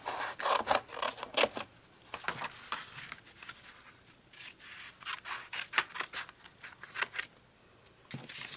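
Scissors cutting cardstock for a handmade gift bag, a series of quiet crisp snips and rustles in short bursts, close and faint.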